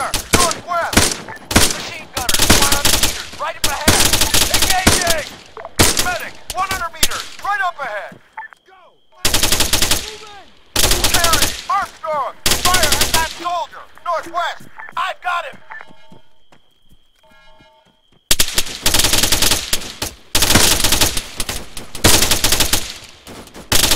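Bursts of machine gun fire in the ARMA 3 military combat game, loud rapid volleys repeating in several clusters, with shouted voices and radio-style talk in between and over the gunfire.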